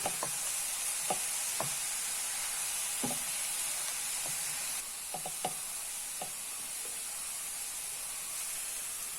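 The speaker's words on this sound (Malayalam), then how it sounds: "ഇനി നന്നായിട്ട് ഇളക്കണം." Banana stem cutlet mixture with chopped ginger and asafoetida being stirred in a pan, giving a steady low sizzle with scattered soft scrapes and clicks of the spoon, close and fairly quiet with no talk.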